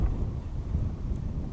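Strong north wind buffets the microphone in a constant low rumble, loud and close, with no voices, outdoors by fields in Rostov Oblast.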